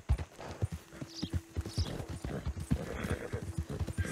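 Horse hooves clip-clop steadily along a road on the approach to Saint-Denis in the video game Red Dead Redemption 2, a continuous rhythmic trot up close with faint ambient noise and a brief whinny.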